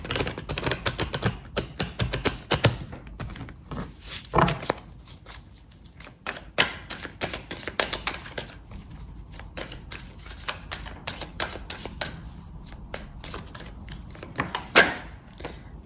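Oracle des Miroirs cards are shuffled and drawn in a long run of quick riffling flaps and soft slaps, close and continuous, with no talking.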